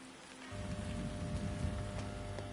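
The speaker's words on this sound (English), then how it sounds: "Oh look, there's a nice rain ambience again." Steady rain ambience inside the video game Dreams, a constant wash of falling rain that swells in after a quiet first half-second and continues evenly, moderately loud, with no talk over it.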